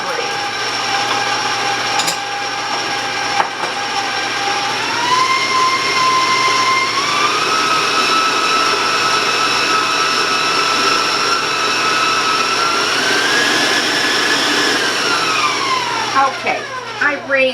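An electric mixer runs at medium-high speed through brownie batter, a steady whirring whine that steps up in pitch twice and holds, then winds down near the end, close and continuous.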